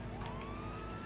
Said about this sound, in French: j'active les sirènes, ouais, je suis en intervention.